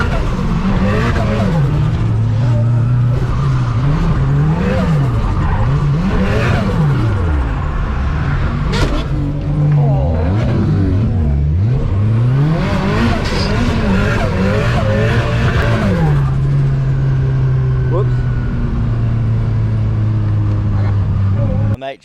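A rear-wheel-drive Mitsubishi Evo drifts at a drift event, engine revs rising and falling in rapid sweeps with loud tire squeal as it slides through corners, close and intense for most of the pass before fading away.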